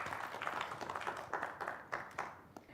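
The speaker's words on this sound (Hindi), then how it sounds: "तालियों के साथ इस्तकबाल कीजिए" Audience applause at a televised Urdu ghazal gathering, welcoming a guest performer: a steady patter of many hands clapping at moderate distance, with a few sharper claps standing out and the clapping thinning toward the end.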